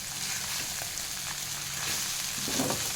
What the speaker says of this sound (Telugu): అలాగా కొంచెం వేపుకుంటాం వేగి వరకు